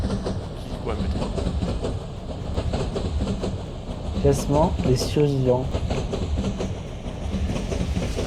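A train in a Roblox video game rumbles steadily along the rails with a rhythmic clatter, while French-speaking players talk over it and a few tonal game effects sound midway.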